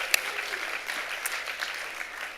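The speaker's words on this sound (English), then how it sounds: "let's give that a round of applause" Light, scattered clapping from a charity benefit audience, fairly quiet and sustained, with one sharp louder clap near the start.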